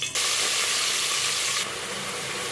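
Onion, tomato and green chillies frying in hot oil in a pan, a loud continuous sizzle and hiss close up that eases slightly partway through.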